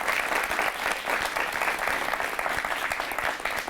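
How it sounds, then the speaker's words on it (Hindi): Enthusiastic audience applause at a Hindi poetry show, continuous loud clapping from a crowd throughout. "एक बार जोरदार तालियां।"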